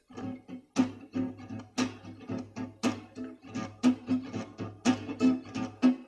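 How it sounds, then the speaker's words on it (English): Muted, percussive guitar strumming in a tight funk groove, steady choppy strokes with accented hits, played alone and up close. "So let's look at another variation on the funk rhythm."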